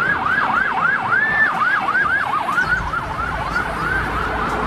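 A toy ambulance siren wails in a steady, rapid up-and-down cycle, loud and close, repeating without a break for the whole stretch with no talking.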